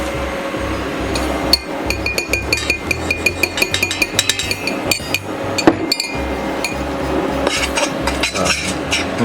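A whisk stirs cherry pie filling in a pot, making rapid, steady metallic clinks and scrapes against the pot. The sound is close and continuous, with little else heard.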